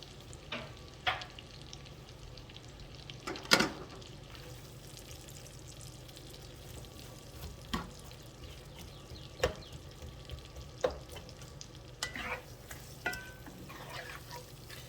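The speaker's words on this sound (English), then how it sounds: "Our onions are cooking down nicely." Thinly sliced red onions fry in a pan, giving a soft, steady low sizzle with scattered sharp clicks and scrapes from stirring, faint and close with no talk.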